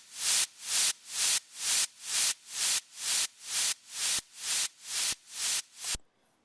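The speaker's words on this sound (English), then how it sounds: "this static electric topper that gives it the white noise" A burst of white-noise static from a GarageBand synth effect pulses in a steady rhythm, about a dozen swelling hiss bursts in a row before cutting off.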